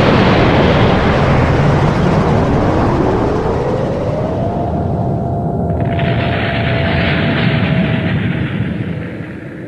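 A loud, sustained explosive boom from a rocket launcher in a game, its roar filling the clip and rumbling on for several seconds before slowly fading.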